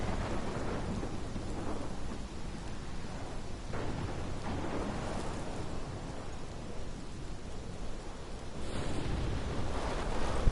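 Steady rain and deep rolling thunder from a storm in the video game Life is Strange, a continuous loud wash that swells near the end, with no voices.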